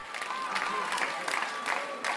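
A live crowd claps at Israel's nationally televised Bible competition on Independence Day, a steady wash of applause with a few brighter bursts of clapping over about two seconds, no voices standing out.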